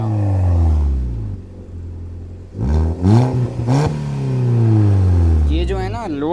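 A modified Hyundai i10 with an aftermarket exhaust revs close by, its deep rumble rising and falling through several throttle blips before settling back to a low idle growl.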